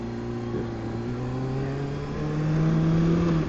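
Car engine pulling away from a traffic light after a late gear shift, a steady mid-pitched drone that rises and grows louder toward the end as the car accelerates.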